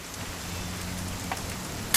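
Steady rain falls in the video game What Remains of Edith Finch, an even hiss that fills the whole stretch with a brief sharper splash-like burst right at the end; no one speaks.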